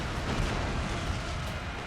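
Musket and artillery fire rumble through a Napoleon: Total War battle between Great Britain and France as a dense, continuous roar of booms and crackling volleys, steady and fairly loud with no voices.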